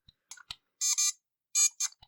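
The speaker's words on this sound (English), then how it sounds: "the whole constant beeping simply makes me feel pain in my ears" A Transformers G2 Tiger Electronics handheld LCD game emits sharp electronic beeps in irregular short bursts, some clipped blips and some longer tones, loud and close with nothing else audible.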